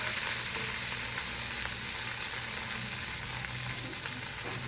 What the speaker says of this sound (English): And I'm going to lower it and let it fry.